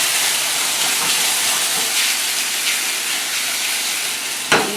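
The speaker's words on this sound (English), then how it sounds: "so we're going to add some canned tomatoes" Canned tomatoes tipped into a hot pan of shallots and garlic give a loud, steady hiss that carries all the way through, ending with a short clatter.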